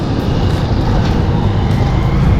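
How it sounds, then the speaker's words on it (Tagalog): Town road traffic in Lipa heard from inside a moving vehicle heading toward City Hall: a steady, loud low rumble of engines and road noise with no pauses, no one talking. "Grabe palang traffic sa bayan"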